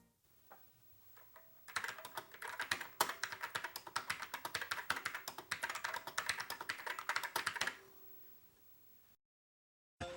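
Rapid, continuous clattering keystrokes on a repaired Commodore SX-64 keyboard, close and crisp, running steadily for several seconds before stopping.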